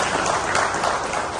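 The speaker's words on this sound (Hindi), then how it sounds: "गोटे करताली" Applause at a political party joining ceremony in a hall: dense, steady clapping from a crowd throughout, loud and continuous with no talk over it.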